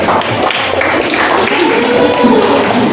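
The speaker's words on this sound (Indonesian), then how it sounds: "Oke, tepuk tangan untuk kalian semua" Classroom audience applause during a teacher-training lesson, dense steady clapping from many hands filling the room, with faint voices mixed underneath.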